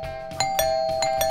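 A doorbell rings with steady sustained chime tones and a few soft repeated strikes. It is moderately faint and there is no talk.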